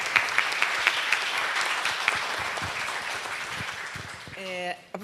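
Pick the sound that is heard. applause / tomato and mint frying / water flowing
applause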